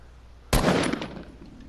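A rapid burst of assault rifle fire from Fortnite rings out in one loud crack-led volley, quickly trailing off into echoing decay.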